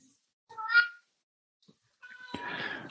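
An elderly 17-year-old cat meows twice in a quiet indoor setting, a short mid-pitched call followed after a pause by a longer, rougher meow, close and clear.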